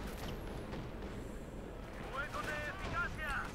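Gunfire and artillery rumble in the World War II strategy game Company of Heroes 2, dense low booms and cracks rolling continuously, while a faint voice talks.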